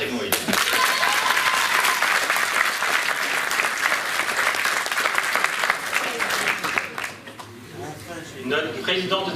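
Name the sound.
audience applause at a pétanque tournament trophy ceremony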